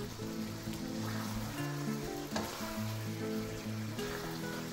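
Chicken feet sauté in a hot pan for sweet and spicy chicken feet, giving a steady close sizzle with a brief stir-like rustle midway. Sustained tonal background sound runs underneath the whole time.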